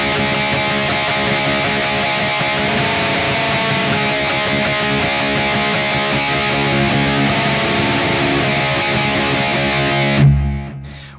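A distorted electric guitar riff from a song, played with a pull-off on the fourth string from pinky to ring finger, rings loud, dense and sustained for about ten seconds before cutting off abruptly.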